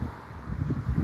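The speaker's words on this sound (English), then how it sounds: "It's very windy, so y'all excuse" Wind buffets the microphone during a morning walk downtown, a low, uneven rumbling that swells in gusts with no voices.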